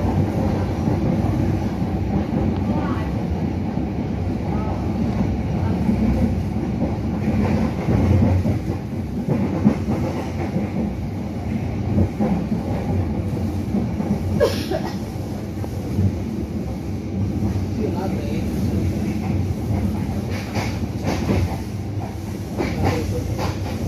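Passenger train on the Cibatu to Bandung line near Nagrek station, a loud continuous rumbling roar with rattling wagon noise and occasional clacks and hiss, heard close from on board with no talking.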